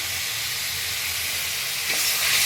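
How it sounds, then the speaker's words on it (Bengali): Spices sizzle steadily in a pan with salt, sugar and kasuri methi while being stirred, a dense close hiss that swells slightly toward the end, with no voices. "সমস্ত কিছু আমি এবার ভালো করে আর একটু কষিয়ে নেব।"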